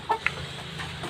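Native chicken of the parawakan variety giving two short, soft clucks close by over a quiet background hum, lasting only about a second.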